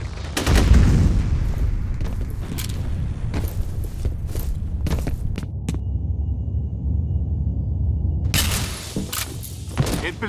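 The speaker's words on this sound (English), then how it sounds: "Grenade out!" Video game combat with a heavy boom near the start, then scattered loud gunshots cracking at irregular intervals, a short lull, and a final burst of fire.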